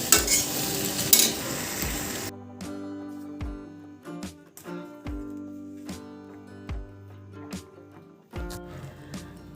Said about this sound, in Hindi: और ये देखिए मैंने डाल दिया नमक, और अब इसे ना धीमी आंच पर पकने देंगे।